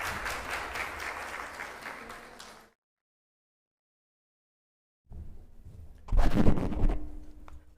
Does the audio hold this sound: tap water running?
no